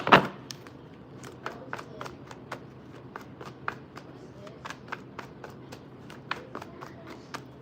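A deck of tarot cards is shuffled close to the microphone, giving a quiet run of crisp, irregular card snaps and slides, opening with a sharper riffle and continuing without talk.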